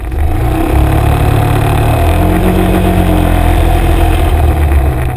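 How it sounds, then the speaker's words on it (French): A Yamaha X-Max 400 scooter's single-cylinder engine pulls steadily under acceleration, a loud, close, smooth drone rising in pitch without knocking, alone with no talk. "Ce moteur est très linéaire mais aucun cognement parasite n'est à déplorer"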